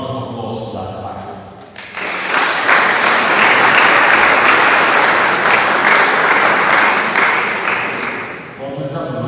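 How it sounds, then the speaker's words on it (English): Applause at a university's 155th anniversary ceremonial plenary session: a voice speaks briefly, then loud dense clapping from a large audience swells in and holds for several seconds before fading as talk returns. "And I think we have to make a round of applause for that fact."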